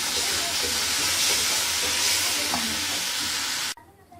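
Date halwa (khajoor ka halwa) sizzles in a pan while being stirred, a steady, loud frying hiss with occasional scraping, cut off abruptly near the end.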